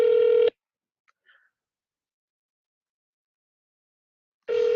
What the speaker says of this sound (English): Please pick up the phone. Please pick up the phone.